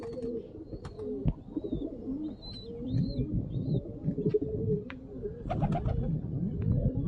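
A female Fulshira pigeon with a small beak coos in low, rolling, repeated phrases close by, while faint chirps and calls from other birds drift over it.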